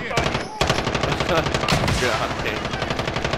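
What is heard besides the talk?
MG34 machine gun fire in Warzone video game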